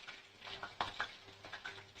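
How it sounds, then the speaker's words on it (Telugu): Mushroom 65 pieces frying in hot oil, dropped in one at a time, giving a soft, quiet crackle with a few sharper clinks and stirring touches scattered over two seconds. "చూడండి ఎంత బాగా ఫ్రై అవుతున్నాయో"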